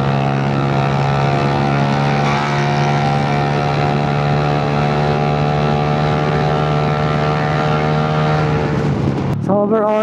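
A Honda Giorno+ 125 scooter with lightweight wheels runs at full throttle, a loud, steady, close engine drone holding one pitch, then dropping off abruptly at the end.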